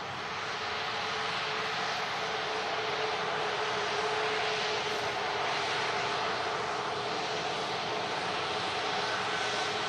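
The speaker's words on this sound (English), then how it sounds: "Iceland Air 737 MAX coming in." An Icelandair Boeing 737 MAX comes in to land at Manchester Airport, its engines a steady, loud broadband roar holding throughout with a faint tonal hum beneath.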